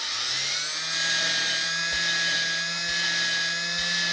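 Valve being lapped with grinding paste during a Moto Guzzi Eldorado rebuild, giving a steady, close, high-pitched whir-like grind with a low hum and a few soft thumps at roughly one-second intervals, with no talk.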